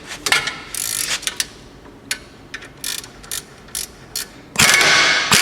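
A ratchet wrench loosens 17mm brake caliper bolts during a CV axle replacement, giving quick bursts of clicking and sharp metallic clacks in irregular clusters, close and fairly loud.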